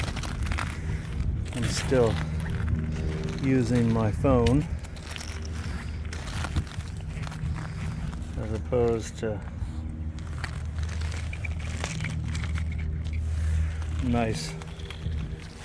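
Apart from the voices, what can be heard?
wind noise on phone microphone outdoors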